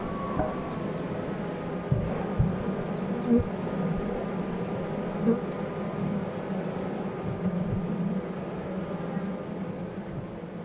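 A very strong honey bee colony buzzes from an opened hive, a dense, continuous drone close by with a few bees passing, under faint handling noises.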